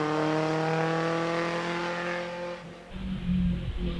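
Vintage Brooklands Riley racing car at the Prescott hill climb, its engine holding a steady loud note with strong harmonics, then a rough rumbling change near the end as it passes close by.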